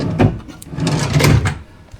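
A hotel room drawer slides open and shut in a Benidorm pop art hotel, a couple of close wooden knocks and scrapes in quick succession.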